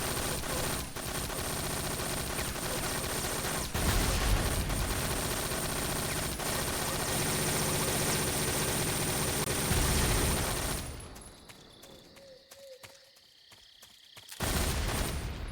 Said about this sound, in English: we got the Patriot shooting at twice the rate of fire